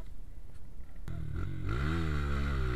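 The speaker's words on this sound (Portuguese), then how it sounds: "Aquela moto é boa, pensa numa moto boa, gente." A motorcycle engine revs up from a low rumble to a loud, rising roar, close by and with no talk over it.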